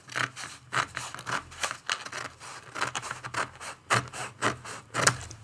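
Scissors cut paper for a junk art journal, a close run of crisp rhythmic snips and rustles repeating roughly every half second.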